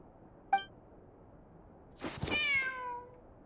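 A cat named Ashru in Genshin Impact gives a short chirp, then after a pause a clearer, longer meow that slides downward, both close and alone against a quiet background.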